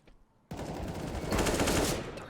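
Gunfire in a CS:GO duel: after a quiet moment, a sudden loud, dense rattle of rapid shots bursts in and keeps going close and intense for about two seconds, with no talk.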